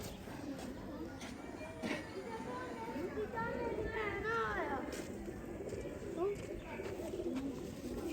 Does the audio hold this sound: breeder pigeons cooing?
yes